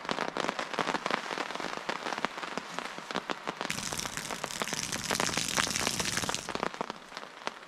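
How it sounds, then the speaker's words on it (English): Heavy rain patters and drips off a tarp over a camping hammock, a dense irregular tapping that grows busier and brighter partway through, with no voices. "that's just the rain off the top"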